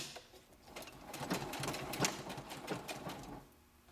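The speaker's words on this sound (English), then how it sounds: "And then sew, make sure it stays along that edge as you're sewing." A sewing machine stitches a ruffle onto an apron, its motor whirring in a steady rapid run that swells through the middle and eases off near the end, close by with no talk.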